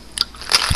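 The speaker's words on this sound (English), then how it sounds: "And then I chew." Someone chewing gum, with a few quick, crisp, crackly bites and squishes close to the mic, spaced irregularly over a moment, with no talking.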